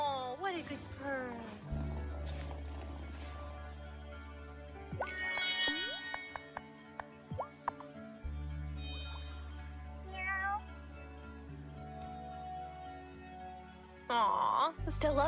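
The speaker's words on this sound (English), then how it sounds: "Oh, what a good purr." A cat in the video game Wylde Flowers purrs in low, steady stretches, broken by short meows, chimes and game effects, with a player speaking over parts of it.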